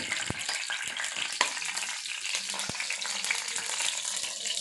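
Garlic hits a hot pan for a prawn roast and fries with a steady, dense sizzle, broken by a few sharp pops and clicks, close and continuous with no talking.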